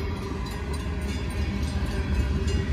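A CSX M327 freight train approaches in the rain, a steady broadband rumble of rolling wagons holding level throughout with no horn, close and continuous.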